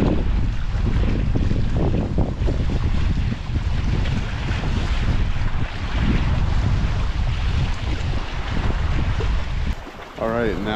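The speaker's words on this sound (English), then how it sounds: "The waves crashing in this tree," Ocean waves crash against the shore near a trail at Laurie Park, producing a loud, rolling roar layered with heavy wind buffeting on the microphone, continuous throughout with a brief voice near the end.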